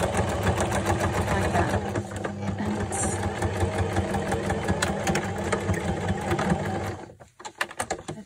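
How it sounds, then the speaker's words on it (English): A regular household sewing machine stitches through a thick layer of paper and fabric on an envelope pouch. Its steady, rapid mechanical whirr runs continuously, then stops near the end. "It might be a bit more difficult for the sewing machine to go over it if you use just a regular sewing machine like I'm doing now."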